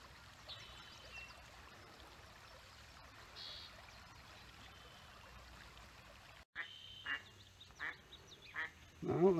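An angry mother duck quacks near river reeds in a canyon at an early-morning river pool: a few loud, separate harsh quacks close by, then a rapid burst, after a stretch of steady rushing water.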